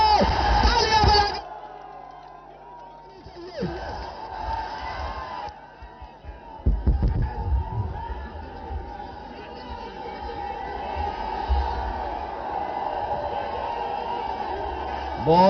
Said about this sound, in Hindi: तालियां बजाओ, तालियां बजाओ।